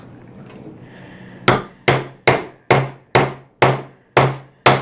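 A hammer strikes hard marble rock nine times in a steady rhythm, each blow sharp, loud and close, with a short ringing decay.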